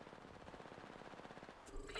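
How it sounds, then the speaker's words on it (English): Rapid automatic gunfire in a video game, a steady stream of quick bursts filling the clip and swelling louder near the end. "Opening fire."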